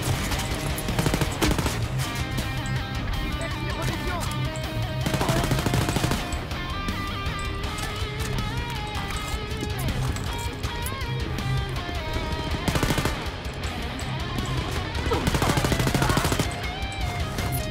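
Sustained automatic gunfire in the video game Wolfenstein Youngblood, loud, dense bursts of rapid shots running nearly continuously, layered over game music and effects.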